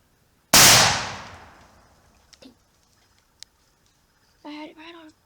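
A single loud, sharp rifle shot fired at a whitetail deer cracks outdoors and rings off in a long decaying echo, followed by faint small sounds and then a person speaking briefly.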